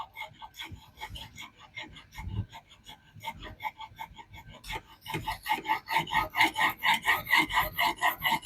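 A knife blade is stroked across a diamond sharpening plate in steady back-and-forth rasps, quiet and sparse at first, then louder and quicker in a dense rhythmic run near the end.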